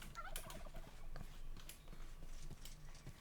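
Turkeys gobbling in Minecraft's RLCraft modpack, several quick rattling gobbles repeating close by, mixed with soft footstep-like clops, with no speech.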